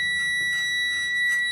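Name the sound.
truck low air pressure warning alarm during brake test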